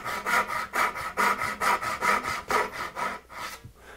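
A hand saw cuts finger joints in wood with about a dozen even, rhythmic rasping back-and-forth strokes, close and clear, then slows and stops near the end.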